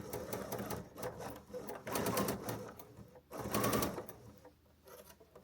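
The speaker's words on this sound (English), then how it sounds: "I lift my presser foot with the needle down, turn, and just continue sewing" Sewing machine stitching a quilted book sleeve, running in several rapid bursts with short pauses where the presser foot is lifted and the fabric turned, close and clear.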